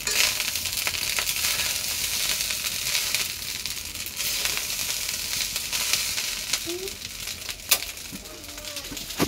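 Leftover rice being stir-fried in a pan, giving a continuous hissing sizzle with occasional scraping and clatter throughout, fairly close and even in level.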